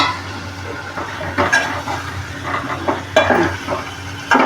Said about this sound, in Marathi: वांगी जरा अशी परतून घेऊ आपण